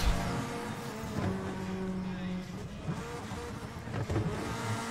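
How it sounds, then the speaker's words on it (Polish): A BMW 1M Coupe races in Need for Speed: The Run, its engine droning steadily close by with rising and falling pitch as it shifts, mixed with other racing cars. "za mną jedzie 1M Coupe, czyli BMW 1M Coupe"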